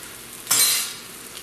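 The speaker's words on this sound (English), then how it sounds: "Now lower the flame and just allow it to cook a little bit more" A sausage and cheese omelet fries in a pan over a lowered flame, giving one brief, bright hiss of sizzling that swells and fades within about half a second against quiet kitchen background.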